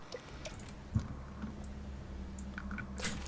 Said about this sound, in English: So I click on the keyboard.